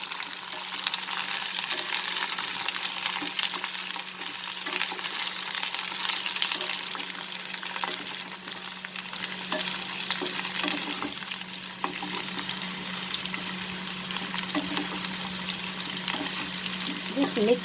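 Chopped ridge gourd (jhinge) with potato frying in a pan as it releases moisture, a steady wet sizzle running throughout with occasional light scrapes and clicks of stirring.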